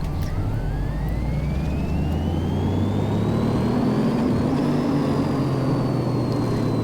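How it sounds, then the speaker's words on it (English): Car engine running on a dyno in a mechanic simulator game, a steady droning hum with a whining tone rising gradually as revs build, loud and continuous. "So we're going to run the dyno."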